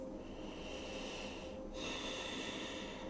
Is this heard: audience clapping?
no